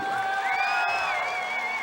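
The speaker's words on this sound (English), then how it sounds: "Give another big round of applause for Tony Wilson" An audience at an Artists of Color show cheers and whoops for the guest artist, bright shouts and sustained crowd noise over faint clapping, moderately loud and continuous.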